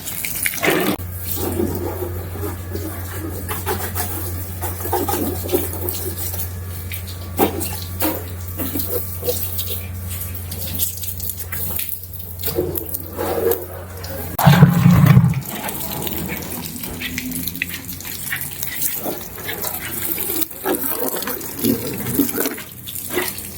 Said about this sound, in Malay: kita mula dengan siram terlebih dahulu